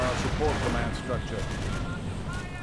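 Mines explode under Panzer Grenadiers in a strategy game, heard as a dense rumble of blasts and gunfire lasting a few seconds, with someone talking over the battle noise.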